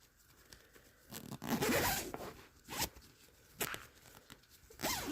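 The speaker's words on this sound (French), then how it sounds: "je vais fermer la fermeture éclair" Zipper pulled shut on a fabric cushion cover in several short, scratchy runs, close by and fairly loud, with brief pauses between strokes.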